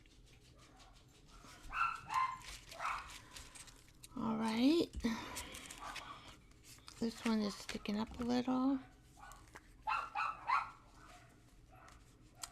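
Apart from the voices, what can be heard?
dogs barking in the neighborhood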